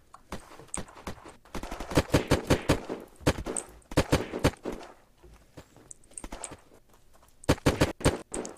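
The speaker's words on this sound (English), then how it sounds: "I shot a guy so many times with that Viper" Repeated bursts of gunfire from the Viper gun in the video game Unturned, sharp close cracks in rapid clusters with short gaps between them, loud and upfront.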